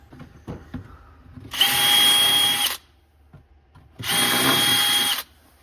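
A power drill bores two holes for mounting a golf cart battery in a Club Car Precedent, with two loud, close, high-pitched bursts of about a second each, separated by quiet handling noise.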